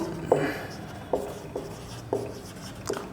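Chalk or marker strokes on a board during a physics lecture on LC oscillation, a few short scratchy marks spaced about a second apart, close and fairly faint, with no speech.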